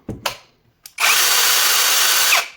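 A Procraft PKA32LI cordless battery chainsaw pruner starts after a couple of brief clicks, then runs with a loud, steady high-pitched motor whine for about a second and a half before spinning down.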